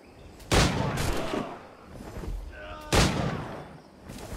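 Two sharp, loud gunshots about two and a half seconds apart in Assassin's Creed 4: Black Flag, each followed by a ringing decay, with game-like effects between them.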